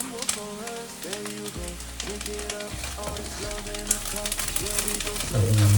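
Dry basil goes into Thai basil fried rice with prawns, which sizzles loudly and steadily in the pan with scraping stirring strokes throughout and no voice over it.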